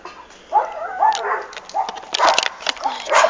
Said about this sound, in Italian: Il cane mi abbaiano.